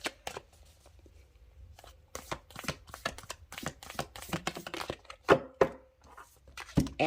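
Tarot cards being shuffled and drawn, a run of crisp, rapid riffling slaps and flicks in dense bursts, close and fairly quiet, with a few sharper card snaps near the end.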